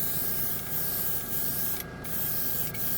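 A Swallowtail side-feed airbrush spraying paint onto a sheet of paper, a steady close hiss of air with a few brief interruptions, one clear gap near the middle, and no voices.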